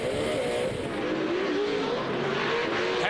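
A Pro 2 off-road race truck howls past at Miller Motorsports Park, its engine note rising and falling continuously as it races, loud and close with no talk.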